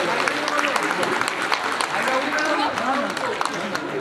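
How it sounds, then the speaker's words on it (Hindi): A crowd at a women's conference in Kolkata claps for the North 24 Parganas district group, a busy, sustained patter of many hands with voices mixed in underneath. "नॉर्थ 24 परगना जिलों के लिए जोरदार करताली।"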